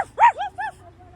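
A dog on a street in Lille lets out two or three quick, high barks close by, followed by a faint whine-like tail in a quiet setting.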